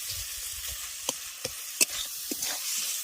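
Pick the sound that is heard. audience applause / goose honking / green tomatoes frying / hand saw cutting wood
green tomatoes frying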